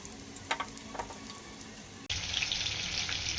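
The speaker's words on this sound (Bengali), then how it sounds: "ভাজা হচ্ছে।" Crispy coated chicken pieces frying in hot oil: a soft watery bubbling at first, then a loud, bright, steady sizzle that surges in abruptly halfway through and continues alone.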